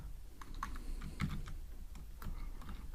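Someone types code on a computer keyboard, a close, steady patter of quick key clicks with irregular spacing and no talking.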